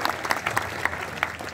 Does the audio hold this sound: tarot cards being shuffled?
no